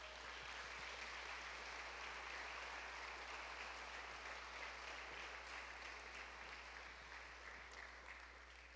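A church congregation claps together in a dense, sustained round of applause that fades slightly toward the end, heard at a distance over a low steady hum.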